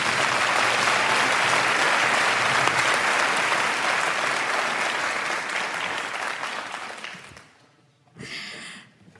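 A large audience applauds to welcome speaker Maya Shankar, a loud sustained wash of clapping that gradually thins and fades out, followed by a brief voice at the end.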